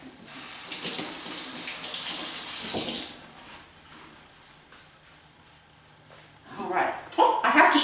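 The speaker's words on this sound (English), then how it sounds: "And of course I need to wash my hands." Tap water running into a kitchen sink during handwashing, a steady rushing splash for about three seconds that fades to quiet before a brief louder burst of water and handling; a voice talks at points.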